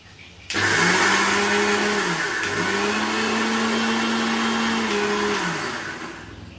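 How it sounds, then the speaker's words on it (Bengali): A kitchen blender grinds pea lentils into a paste, a loud steady motor whine that starts abruptly, holds with slight pitch dips and shifts for about five seconds, then fades at the end. "মটর ডালটা পেস্ট করে নেব।"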